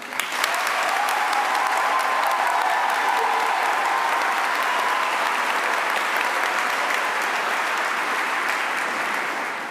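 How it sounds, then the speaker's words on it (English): A graduation audience at a commencement ceremony claps steadily and loudly, a dense wash of hands from a large crowd that holds for nearly ten seconds before easing slightly at the end. "clap for every graduating student here right now"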